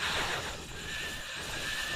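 A single horse neighs in the mobile video game King God Castle, a drawn-out whinny over a soft bed of game ambience.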